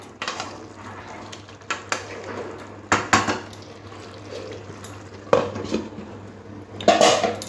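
Metal pot lid and utensils clatter over a pot of bottle gourd cooking, scattered sharp clanks and scrapes with gaps between, fairly close, no talking.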